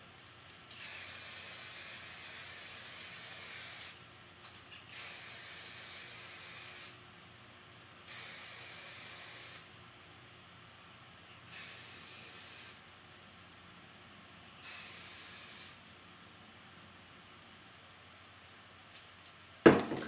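Five separate bursts of hairspray aerosol hissing, each lasting a couple of seconds with short pauses between, close and steady, ending with a brief clatter.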